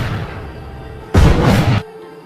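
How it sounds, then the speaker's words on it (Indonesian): A single loud, sharp gunshot cuts through a low background hum, ringing out for about half a second before fading into quiet. "Mendengar ada tembakan"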